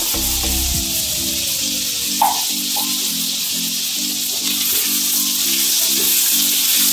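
Vegetables, potatoes among them, frying in a mix of oil and ghee, a steady loud sizzle that runs unbroken throughout with a few brief spits and pops, no voices.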